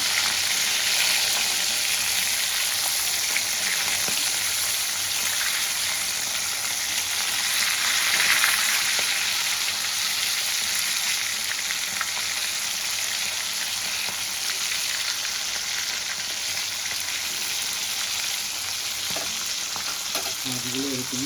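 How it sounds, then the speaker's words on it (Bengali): Rohu fish pieces frying in hot oil in a pan, a loud continuous crackling sizzle heard close up for the full length with occasional stirring clatter and no talk. "এবার মাছগুলোকে আমি এপিট ওপিট লাল লাল করে ভেজে তুলে নেব"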